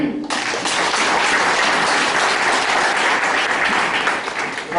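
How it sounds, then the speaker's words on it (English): An audience applauds after a keynote speech at the EICT 2013 conference, a dense, loud, sustained wash of clapping that starts abruptly and carries on evenly to the end. "Let us give a big clap for him."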